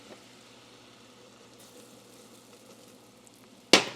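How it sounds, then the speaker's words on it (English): Flour going into melted butter in a pan, a faint, steady sizzle running quietly throughout before a sudden loud burst of crackling sizzle right at the end. "Now that our butter is melted, we're gonna start throwing in our flour."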